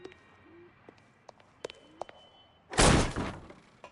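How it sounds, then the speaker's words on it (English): A door being kicked in during the video game L.A. Noire: faint clicks and small sounds, then a sudden loud crashing slam that tails off briefly. "Don't bother knocking, just kick the door in."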